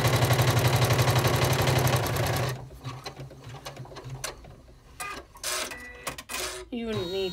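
Sewing machine stitching a clutch bag closed, running in a loud, steady rapid whir for a few seconds before stopping, followed by quieter handling noises and brief talk.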